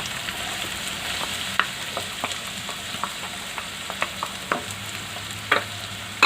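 Finely chopped onions fry in hot oil for paneer keema, giving a soft, continuous sizzle with scattered clicks and spatula taps.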